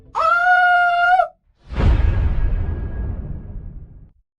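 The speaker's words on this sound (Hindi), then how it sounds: "कहते हुए मिताली जोरों से चीखने लगी।" A woman lets out a loud, sustained scream, then after a brief pause a crash-like burst rings and fades slowly.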